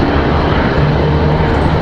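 A Pilatus PC-24 business jet departs from Raleigh-Durham International, its engines giving a loud, steady broadband roar that holds without letup and with no voices.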